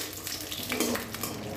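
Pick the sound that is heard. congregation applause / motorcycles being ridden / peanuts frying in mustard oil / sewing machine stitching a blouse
peanuts frying in mustard oil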